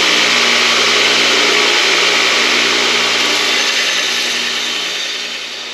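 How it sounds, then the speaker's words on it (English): A 2x72 inch belt grinder sharpening a steel lawn mower blade gives a loud, steady abrasive whir with a high hissing grind, continuous throughout and slowly fading toward the end. "my son is in the other room sharpening on the 2x72 inch grinder"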